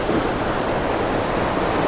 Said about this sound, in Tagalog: Ganyan kalakas ang agos ng tubig.